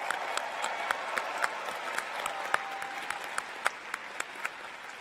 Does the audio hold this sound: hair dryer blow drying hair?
no